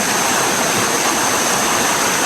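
A mountain river rushes over rocks, a loud, dense and unbroken roar of flowing water close by, steady throughout with no voices.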